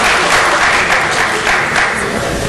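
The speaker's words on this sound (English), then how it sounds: "I've given the audience a chance to applaud the opening statements" Crowd applauding an opening statement at the Elyria mayoral debate, sustained close clapping from many hands that holds evenly throughout without any talking.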